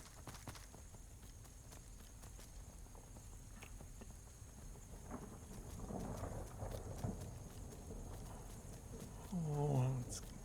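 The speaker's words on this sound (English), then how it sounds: "I love this storm." A thunderstorm rolls through Skyrim, low distant rumbles swelling and fading under steady rain-like hiss, with a louder rumble building toward the end.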